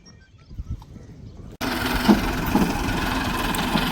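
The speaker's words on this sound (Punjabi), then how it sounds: "ਇਹ ਤੀਸਰੇ ਟਰੈਕਟਰ ਦੀ ਇੰਟਰੀ ਹੋ ਗਈ ਆ" After a quiet stretch, a tractor engine abruptly rumbles into a steady, loud idle with a low mechanical throb that continues to the end, during paddy season work to pull out stuck vehicles.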